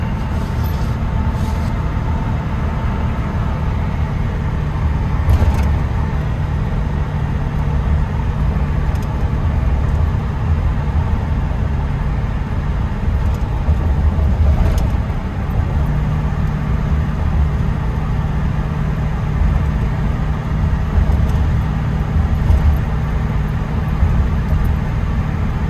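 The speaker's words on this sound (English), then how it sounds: "still pretty quiet at cruising. I think I hear more tire noise than anything" Inside a 1979 Chevy K10 4x4 squarebody pickup with a 400 engine and Dynomax exhaust, cruising along the road brings a steady low drone of engine and tire noise, fairly loud and constant, with no one talking.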